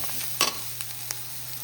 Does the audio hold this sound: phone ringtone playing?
no